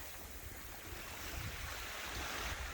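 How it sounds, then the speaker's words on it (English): Winter surf washing chunky pieces of ice onto a New England beach in minus ten degree cold, a steady broadband roar of waves and wind holding at a fairly even level with no voices. "These huge chunky pieces of ice are washing up on the beach."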